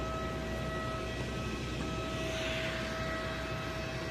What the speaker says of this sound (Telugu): ఒక ట్రాలీ లాంటి లారీ విమానాన్ని రోడ్డు మీదకి నెడుతుంది